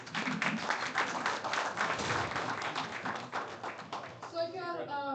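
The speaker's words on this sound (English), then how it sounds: "Can we just welcome them with a quick round of applause, please?" Round of applause at an IT industry alliance event, brisk clapping from a crowd for several seconds, with voices mixed in and a speaking voice emerging as it ends.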